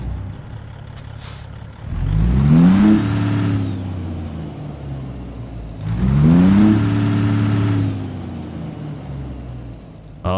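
A Peterbilt 389 truck with a Cat C15 engine in American Truck Simulator revs up twice in long, loud pulls, each rising in pitch and then holding steady before easing off.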